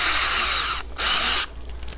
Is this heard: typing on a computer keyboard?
no